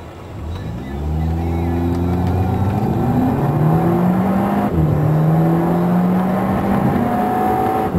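A Kawasaki motorcycle engine revs hard toward its rev limiter, giving a loud, continuous, close engine drone with pitch climbing in steps and briefly dropping back.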